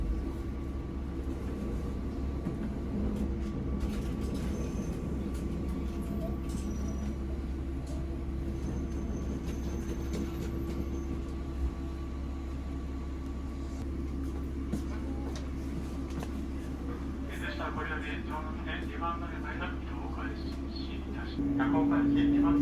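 Belmontà sightseeing train moving slowly within Takaoka station, a low steady rumble of the railcar throughout, with a station announcement voice over it and a brighter squeal rising near the end.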